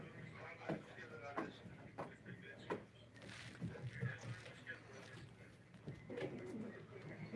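Pigeons coo steadily in the background at a live pigeon auction, while someone speaks over them almost without a break.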